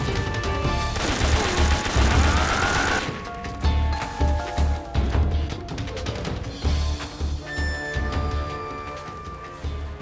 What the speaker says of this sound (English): I just gunned down everyone and everything until I got to the next area.